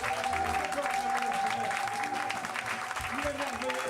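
Congregation in a church applauding steadily and loudly throughout, with a voice and sung or sustained tones carrying over the clapping.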